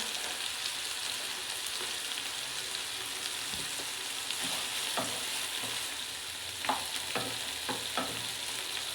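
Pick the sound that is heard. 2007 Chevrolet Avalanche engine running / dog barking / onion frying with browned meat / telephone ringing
onion frying with browned meat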